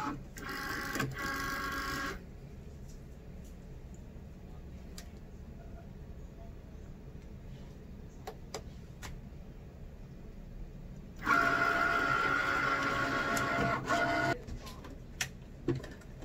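A Cricut Maker cutting machine works through cotton fabric in two bursts of whirring, buzzing motor drive with a quieter humming stretch between, steady and close with no talking.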